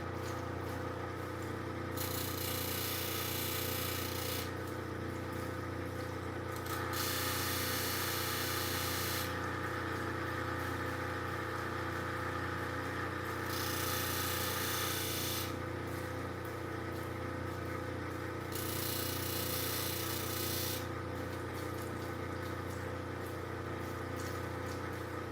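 A lapidary machine grinds bevels onto an opal gemstone, a steady motor drone with a continuous whirring hum and periodic bursts of brighter grinding hiss that come and go every few seconds throughout.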